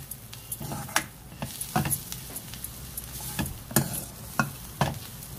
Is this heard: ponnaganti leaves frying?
yes